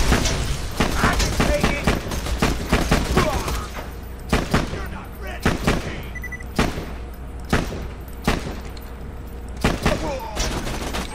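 Turret gunfire in the video game Borderlands 2 comes as loud, repeated bursts of shots and booms, with an irregular rhythm that keeps going throughout, over a player's voice.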